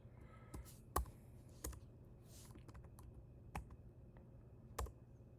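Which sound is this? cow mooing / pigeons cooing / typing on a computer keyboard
typing on a computer keyboard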